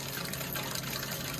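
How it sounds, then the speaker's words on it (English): Water runs steadily from a camper trailer shower outlet, a faint, continuous trickling splash heard close by with no talking. "Okay, so water's coming out of there."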